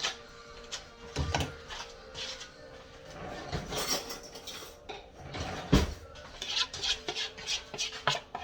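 Metal spoon pulled from a cutlery holder in a home kitchen, giving several light clinks and scraping rattles, fairly close and quiet, with no talking.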